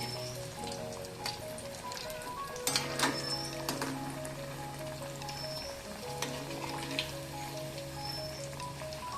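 Bombil vada, Bombay duck fritters, frying in hot oil: a steady crackling sizzle throughout, with brief louder spits and clatters of a utensil now and then.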